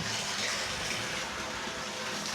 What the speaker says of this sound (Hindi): ये देखो, ये पानी जो है बिना किसी मशीन के वो आ रहा है भाई